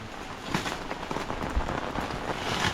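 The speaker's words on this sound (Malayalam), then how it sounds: "കനത്ത മഴയല്ലേ?" Heavy rain falls steadily in a continuous broadband hiss with scattered louder drop patters, fairly close and alone with no voices.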